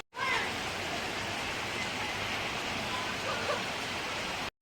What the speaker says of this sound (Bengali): বেশি বৃষ্টি হচ্ছে না এখানে